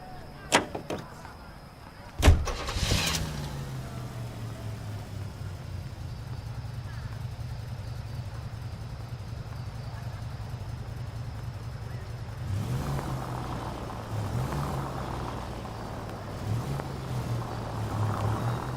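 A car drives in the video game L.A. Noire, its engine a steady low hum after a couple of sharp knocks. The hum changes pitch with gear shifts in the later part.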